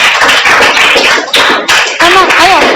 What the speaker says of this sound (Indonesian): tepuk tangan dong untuk Helen